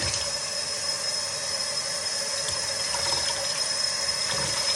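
Water runs steadily and splashes continuously, rinsing clear blue through the inside of a wig cap after a Windex wash, with no talking.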